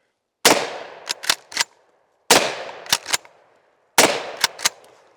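A shotgun booms three times at steady intervals, each blast loud and close, followed by two or three quick metallic clacks as the action is cycled between shots.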